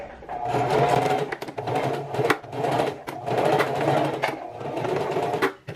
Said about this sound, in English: I'm doing a straight stitch